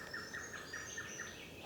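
Small birds chirping in a quiet low-light outdoor setting, a faint series of repeated high tweets at a steady rhythm over soft background hiss and insect-like buzz.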